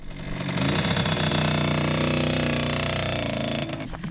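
A Kawasaki KX100 dirt bike engine revs and buzzes loudly close by, a steady high-pitched two-stroke whine that holds for a few seconds before pulling away and dropping off.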